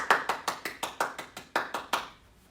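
A round of applause from a Sunday school session, about a dozen distinct, fairly close hand claps in a loose rhythm before it stops.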